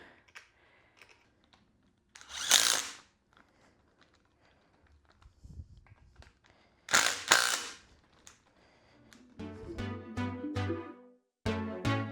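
A power drill reinstalls parts on a Yamaha TTR90E kids' dirt bike during a restoration: two loud clattering bursts, scattered tool clicks, then a run of short, close whirring drill pulses near the end, with no talk.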